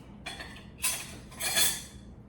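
Blackberry dumplings being scooped from a pot with a utensil, giving a few soft metallic scrapes and clinks against the pot in three short bursts, close and quiet with no talking.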